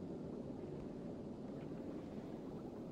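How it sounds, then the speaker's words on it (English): Three engines running together on a spacecraft in Factorio 2.0 during a test flight, a low, steady rumbling roar that holds constant throughout at moderate level, with no talking. "All right, we got three engines going."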